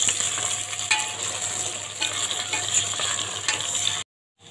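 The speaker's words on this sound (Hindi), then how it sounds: "बिस्मिल्लाह, मैंने इसमें चिकन ऐड कर दिया।" Chicken pieces hit a pan of lightly browned frying onions, giving a loud close sizzle with clattering stirs and scrapes throughout, then the sound cuts off abruptly near the end.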